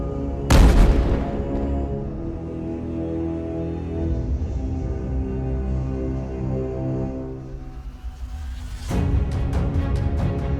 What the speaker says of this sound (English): an FPV drone struck its ammunition stock, triggering a massive explosion